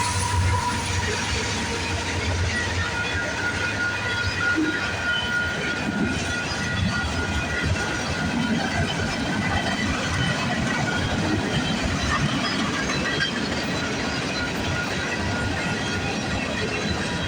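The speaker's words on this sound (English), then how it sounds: "Symbol on this train is CP236" A CP freight train led by locomotive 8100 rolls past in Milton, Ontario, with a continuous heavy rumble and rattle of wagons, steady and fairly close throughout.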